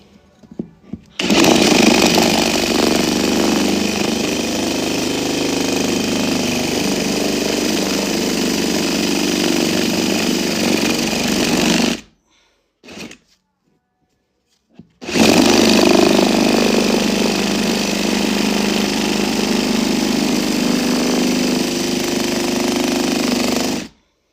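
A power drill runs loud and continuous in two long bursts of about eleven and nine seconds, separated by a brief stop with a short blip, droning steadily with no talk.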